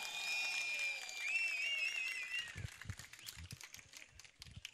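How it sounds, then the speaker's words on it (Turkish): A rally crowd in Turkey claps in support of teachers: a whistle and cheering open the stretch, then scattered, uneven handclaps build and thin out toward the end, moderately distant. "destek alkışı yapıyoruz"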